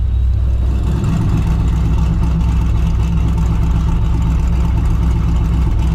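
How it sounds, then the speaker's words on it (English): A supercharged Pontiac GTO idles with its Spelab electric exhaust cutouts open, giving a loud, deep, steady rumble heard from inside the car, with a brief swell partway through. "Do it one more time, guys, just so you can hear the difference at idle in the car."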